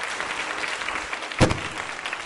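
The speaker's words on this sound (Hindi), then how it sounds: "तालियां जोर से बजाइए उपाध्याय साहब के लिए।" Audience at a women's polytechnic college quiz show applauds, a continuous wash of clapping at moderate volume with one sharper burst midway.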